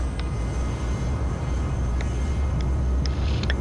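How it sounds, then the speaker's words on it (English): An FJ-3 Fury jet in Microsoft Flight Simulator X roars with a loud, steady low engine drone, a constant heavy rumble broken only by a few faint clicks. "this plane is very, very loud"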